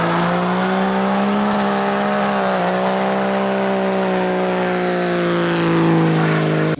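A 2nd gen diesel truck engine with a turbocharger swap drones loudly and steadily, a deep harmonic hum that holds nearly constant pitch with a slight dip midway, heard up close without talk.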